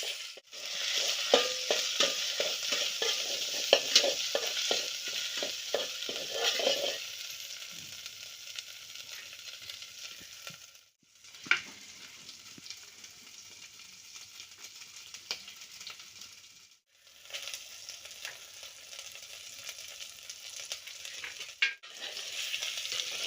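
A paste of garlic, coconut and ginger sizzles steadily in hot oil while being stirred, a continuous close frying hiss with scraping stirs early on and a couple of brief pauses.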